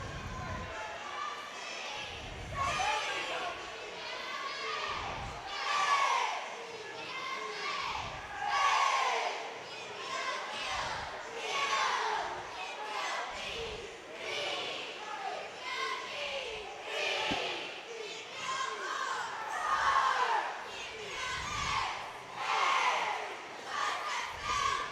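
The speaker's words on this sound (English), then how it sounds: "Here come the Rebel cheerleaders for the last time this year in basketball" Chambers Academy Rebels cheerleaders chant and shout in rhythmic bursts at a state championship basketball game, loud crowd voices rising and falling with sharp claps and stomps throughout.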